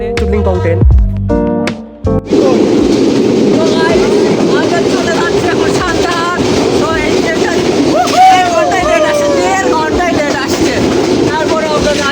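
A train rumbles past with steady clattering and mechanical noise, a few short horn-like tones at the start and scattered squeals throughout.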